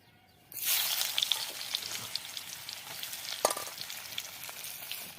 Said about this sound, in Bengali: বন্ধুরা তেল গরম আছে, তেলে পেঁয়াজ দিয়ে দিব।